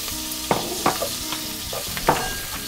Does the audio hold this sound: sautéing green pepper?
yes